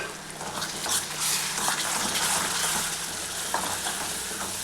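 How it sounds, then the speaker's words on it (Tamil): Curd stirred into sautéing onions for a Tamil fenugreek gravy, a dense continuous sizzle and bubbling with stirring scrapes, loud and close throughout with no voices. "இப்போ நம்ம வதங்குற இந்த வெங்காயத்தில் இந்த தயிரை சேர்த்துக்கலாங்க."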